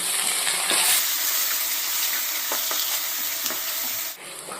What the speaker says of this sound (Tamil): இப்போ நம்ம சேர்த்துக்கிட்ட வெங்காயத்தையும் கருவேப்பிலை இலைகளையும் நல்லா எண்ணெயில் வதக்கி கொடுத்துடலாம்